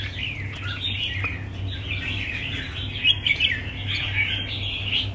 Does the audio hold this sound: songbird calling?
yes